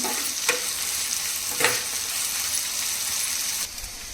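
Onions fry in a pan with a soft, steady sizzle, broken by a few brief scraping stirs spaced a second or two apart.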